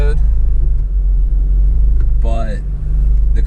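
A car engine idles with a steady low rumble, its idle slightly uneven because of an exhaust leak, close and loud throughout, with a voice briefly cutting in near the end.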